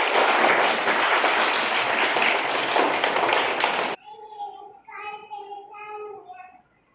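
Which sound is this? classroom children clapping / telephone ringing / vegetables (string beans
classroom children clapping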